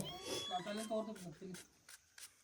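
A cat meows close by, mixed with people talking, followed by a few sharp short bursts of noise.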